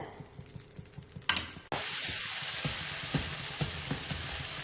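Onion uttapam dosa from Nandini batter, with added ghee, fries on a hot pan: a faint clatter gives way to a sudden, loud, steady sizzle that fills the rest of the clip with scattered crackles.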